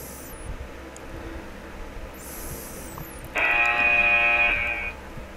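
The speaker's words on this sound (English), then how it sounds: "And there goes the timer." A timer buzzer goes off in the Tenkuu no Restaurant video game, a loud steady electronic buzz lasting about a second over quiet game background.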